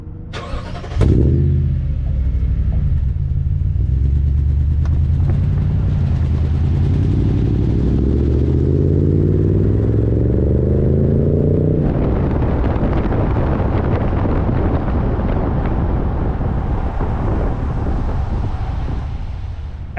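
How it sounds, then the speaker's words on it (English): A 2021 Toyota Tundra TRD Pro with a black-tipped dual exhaust starts with a sharp burst, then idles with a deep rumble and revs up loudly before settling into a rough, steady roar, close and with no talking. "You have a black tip TRD exhaust. That's a dual exhaust, not the same exhaust that comes on the regular Tundra."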